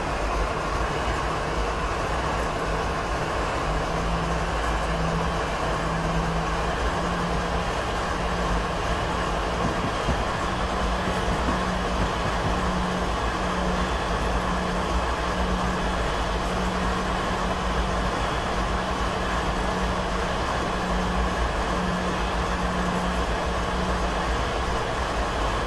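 A BNSF ES44DC diesel locomotive rumbles steadily in Train Simulator 2016 on Marias Pass, with a constant engine drone and a low droning tone throughout, no talking.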